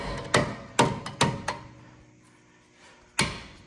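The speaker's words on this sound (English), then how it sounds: "What I do is take my hammer." Sharp hammer taps ring out in a quick cluster of four, a pause, then two more strikes, close and percussive, tapping parts into place during Grand Cherokee maintenance.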